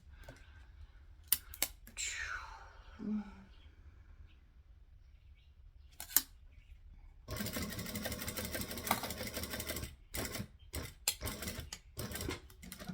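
Sewing machine stitching across fabric, a rapid buzzing run of several seconds that stops and leaves scattered clicks and handling noises, fairly faint and close, with quiet talk and rustling around it.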